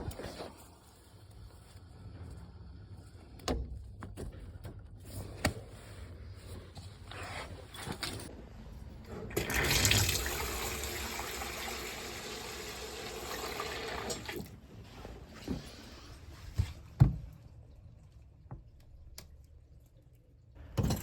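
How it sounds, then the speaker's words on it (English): Taps run after the water supply is switched back on during a Worcester boiler installation. Faint knocks and pipe noises lead to a strong rush of water for several seconds, followed by scattered clunks and drips. "Now I'm just setting all the taps so I can turn the water back on,"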